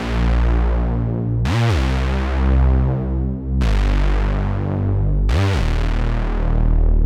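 A synthesized Reese bass made in Serum, trance style, plays long, thick, detuned sustained notes that glide into each new pitch, three bends across the passage, loud and alone with no voices.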